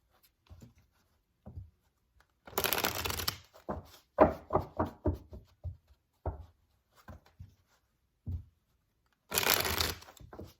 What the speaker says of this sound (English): So I'll shuffle these.